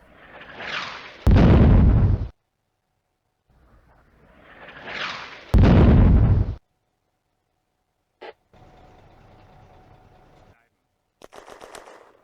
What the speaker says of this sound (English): Good effect from the mortar rounds.